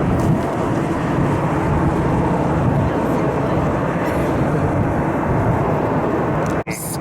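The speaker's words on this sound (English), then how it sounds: "It's a United Express flight heading to Chicago O'Hare" A United Express SkyWest airliner departing in falling snow, a broad steady jet roar heard from a distance, sustained and even, with a brief dropout near the end.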